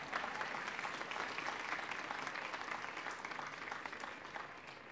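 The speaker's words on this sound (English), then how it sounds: "you can applaud yourselves" Outdoor crowd at an AIDS Walk New York opening ceremony claps steadily, a broad wash of applause that fades slightly toward the end, with no speech over it.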